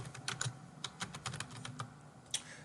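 Quick, light clicks of fingers typing on a computer keyboard in an irregular burst, close and fairly quiet, with no talking.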